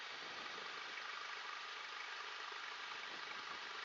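A light training aircraft's engine runs steadily on an uphill grass runway, a dense, unbroken roar that holds the same loudness throughout, close and constant with no voices over it.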